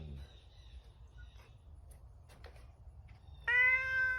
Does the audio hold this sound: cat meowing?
yes